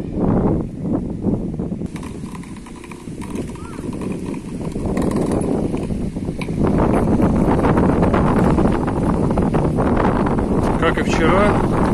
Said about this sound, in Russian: Как и вчера, волны на Амуре, все из-за ветра.